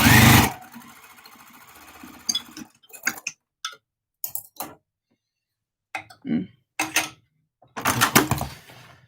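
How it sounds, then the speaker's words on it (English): A sewing machine stitching along a dart line, running in short, close bursts of rapid mechanical whirring broken by pauses of silence. "I've sewn along the line there and there in the dart."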